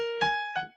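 A piano plays a brief fragment of Beethoven's Sonata Pathétique theme with the turn: three quick, close notes struck in succession, each ringing briefly before fading.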